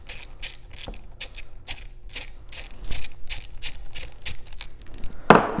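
A hand ratchet clicks in rapid, steady bursts while backing out a mounting bolt from an MSD Mini Dynaforce starter on a third-gen Camaro, close and alone, ending in a sharper metallic clack.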